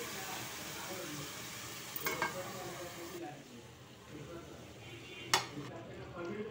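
Chicken curry is stirred in a pan with a soft sizzle underneath, a couple of metallic scrapes and clinks of the spoon against the pan standing out, faint and close.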